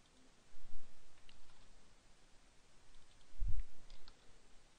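Computer mouse clicks while working in CRM software, two faint, close taps in a quiet room with a low background hiss, no talk.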